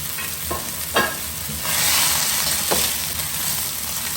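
Broccoli, corn and red cabbage are stir-fried in a wok at high heat, a steady close sizzle swelling as the vegetables go in, with a few sharp scraping tosses.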